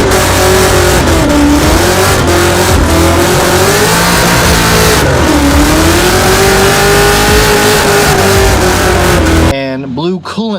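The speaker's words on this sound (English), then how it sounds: "I did my first big standing burnout in the Cobra." A Ford Mustang Terminator Cobra does a big standing burnout at a car meet. Its engine revs hard and loud, steady and continuous with tire roar, and the sound cuts off abruptly near the end.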